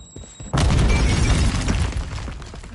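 A grenade blast in Call of Duty: Modern Warfare III multiplayer on the Rio map, one sudden loud, close boom that bursts in after a quiet moment and rolls on into a long, heavy rumble.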